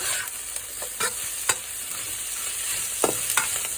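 Yacon, a Peruvian ground apple, is stir-fried in fragrant oil in a hot pan. A steady loud sizzle runs throughout, broken by irregular spatula scrapes and taps, with no talking.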